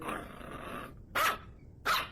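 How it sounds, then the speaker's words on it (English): A dog growls low and steadily, then lets out two sharp, loud barks spaced apart, close by. "What is that dog barking at?"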